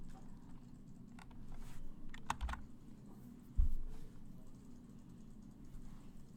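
Computer keys clatter in short, irregular bursts of taps at moderate distance over a low room hum, with one sharper knock partway through and no talk.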